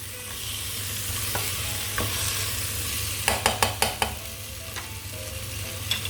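Cumin seeds sizzle steadily in a hot pan, with a quick run of sharp spoon-on-pan scrapes and knocks from stirring partway through, close and fairly loud.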